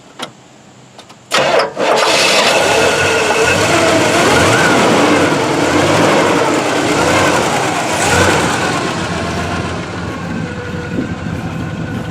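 A 1970 Chevrolet Monte Carlo engine cranks and catches, then settles into a loud, steady rumbling idle that keeps running throughout, with a brief swell in revs partway.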